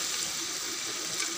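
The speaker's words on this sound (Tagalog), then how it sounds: "lalagyan ko siya, guys, ng chicken broth" Chicken broth poured into a cooking pot for chicken pochero, a steady close liquid splash and trickle running without a break, alone with no talk.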